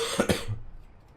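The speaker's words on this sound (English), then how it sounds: "Sorry about me coughing." One person gives a couple of quick, close coughs with a throaty edge, then trails off into near silence.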